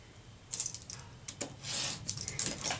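Scissors or a trimmer cut through a paper card in a run of crisp, close snipping and rasping strokes, irregular and fairly quiet, with no voices.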